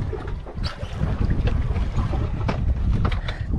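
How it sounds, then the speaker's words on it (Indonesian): Steady gusting wind buffets the microphone over rushing, choppy sea water off Sarawak, a continuous roar with no voices. "Keadaan berangin sedikit dan berombak seperti yang anda tengok."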